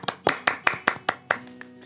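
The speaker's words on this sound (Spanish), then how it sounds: "Un aplauso." A handful of close, distinct hand claps in an uneven rhythm, about eight sharp slaps from one or two people on a podcast set, with no talk between them.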